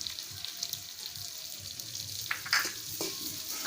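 Crushed ginger is stirred through fried carrots and peas for a vegetarian moong dal khichuri, a low sizzle under soft spatula scrapes and a couple of sharper clinks, close by and without speech.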